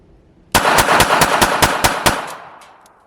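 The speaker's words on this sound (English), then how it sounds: "The reset is super fast, it shoots super fast, and again, that recoil is nothing." A Beretta Tomcat 30X .32 ACP pistol fires a rapid string of about eight loud, close shots in quick, even succession, each crack sharp, with the echo trailing off into a fading tail afterward.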